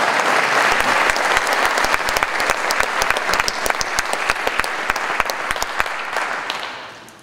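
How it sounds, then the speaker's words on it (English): A crowd applauds loudly at a Ritenour Hall of Fame induction, sustained clapping with sharp, distinct hand claps standing out from the thick, continuous roar of many hands. "How about that for Ritenour applause?"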